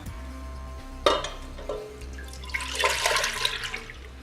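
Water from a pot of boiled pasta pours out to drain, starting with a sudden splash, then building into a louder, gushing rush that fades in bursts.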